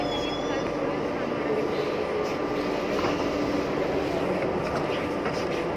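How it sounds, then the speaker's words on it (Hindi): A Delhi Metro train pulls into a station with a steady mid-level rumble and whine, with crowd murmur and voices throughout. "ये मेट्रो आ रही है और हम मेट्रो में एंटर होने जा रहे हैं।"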